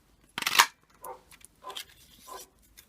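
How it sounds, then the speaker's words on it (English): A big golden retriever next door gives a handful of barks, one sharper burst followed by three softer, slightly distant ones spaced about half a second apart, with quiet room background and no talk. "Oh, did you hear that dog barking then?"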